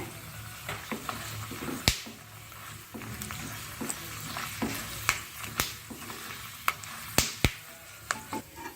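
Mustard seeds, chana dal, urad dal, peanuts and a dry red chilli crackle in hot tempering oil, giving a steady close sizzle punctuated by sharp popping snaps.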